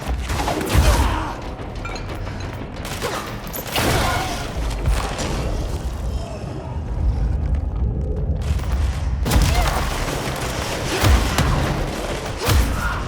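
Heavy booming rocket explosions and bursts of gunfire go off in the action video game Control, loud and close, with rumbling impacts recurring across the fight.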